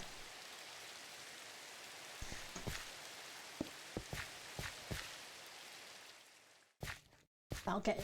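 Steady rain falling in Minecraft, a constant soft hiss broken by a few brief clicks and pops, cutting out abruptly near the end before short bursts return.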